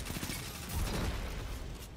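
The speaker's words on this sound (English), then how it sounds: "Oh my god, this SMG feels so good." Rapid SMG fire from the Parabellum in Destiny 2 PVP gameplay sounds as a quick burst of muffled shots at moderate level that fades into a low rumble, no speech.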